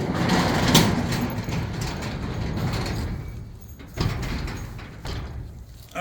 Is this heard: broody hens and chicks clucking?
no